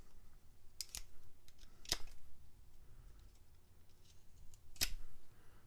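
A folding knife fitted with a replaceable box cutter blade slices through material in three sharp, brief cuts spaced apart, crisp and close against a quiet background, with no talking.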